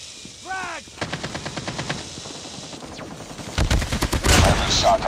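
Gunfire crackles in the Front Line video game: a short rising whistle, then a quick string of evenly spaced shots, followed by a louder, denser burst of rapid fire close up.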